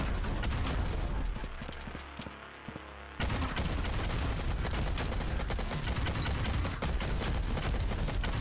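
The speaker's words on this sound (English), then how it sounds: "Minigun, yeah, you like the minigun." A minigun in Vampire Hunters fires in dense, continuous volleys, loud and close, dipping briefly before resuming at full rapid fire.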